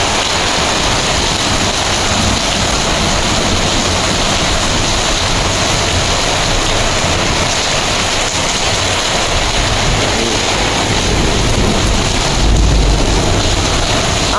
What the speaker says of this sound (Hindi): इतनी भयंकर बारिश